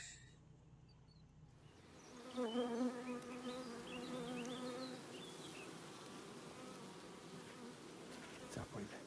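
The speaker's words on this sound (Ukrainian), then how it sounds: "Тут також пасіка зараз покажу вам." A dense swarm of Carniolan honey bees hums steadily at an apiary, the close, continuous buzzing swelling slightly early on and then holding. A brief knock sounds near the end.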